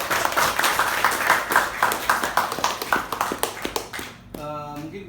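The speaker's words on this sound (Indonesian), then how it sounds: "Aplaus ya." An audience clapping at a campus discussion event, steady and rhythmic for about four seconds, then giving way to a short tonal musical jingle.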